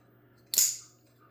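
A single sharp snapping shot from a Heritech Wraith V4 toy blaster that has a sticky lock, loud and close, with a short fading tail and no talking.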